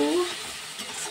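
Spiced yogurt chicken masala being stirred and sautéed in a pan, a brief soft sizzle with light scraping just after a voice trails off.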